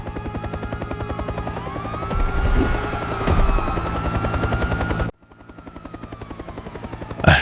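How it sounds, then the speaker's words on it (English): A helicopter flies overhead, its rotor thumping in a loud, rapid, steady pulse with a whining engine tone; the sound drops out abruptly, then returns and builds again. "A helicopter overhead"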